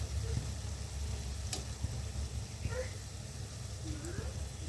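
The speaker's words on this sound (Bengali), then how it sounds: "এখন ভাজা প্রায় হয়ে গেছে" Steady sizzling of palm fruit fritters frying in hot oil, a continuous close hiss with occasional soft scrapes and faint voices nearby.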